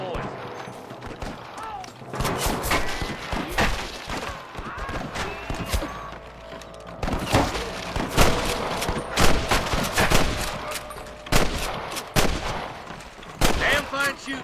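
Repeated gunshots ring out in a Red Dead Redemption shootout, loud cracking volleys scattered irregularly throughout, mixed with shouting voices and faint hoofbeats.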